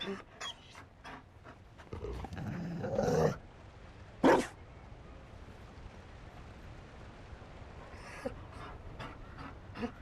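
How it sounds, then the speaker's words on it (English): A Mabari war hound in the fantasy game Dragon Age: Inquisition pants and gives a short growl and bark, with scattered other game sounds and a few spoken voices around it. "You found a dog."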